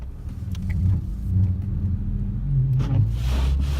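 A manual car's engine rumbles steadily up close as it accelerates, the low drone rising and dipping with a gear change on a slippery road, without speech over it.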